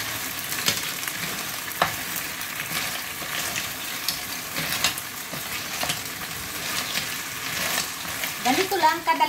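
Clams with black bean sauce sizzle loudly in a hot pan while being stirred, with repeated scraping and clattering knocks over a continuous frying hiss.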